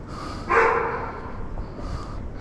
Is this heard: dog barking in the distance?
yes